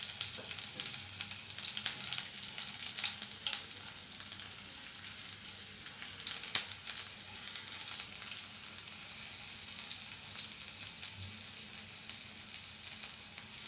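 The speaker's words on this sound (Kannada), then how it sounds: "ಇದು ಬೆಳ್ಳುಳ್ಳಿ ಹಾಕೊತಾ ಇದ್ದೀನಿ." Garlic sizzling steadily in hot oil in a pan for a home-cooked rasam, a continuous close crackle with occasional sharper pops and no voices.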